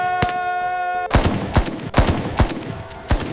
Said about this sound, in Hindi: गोलियों की बरसात,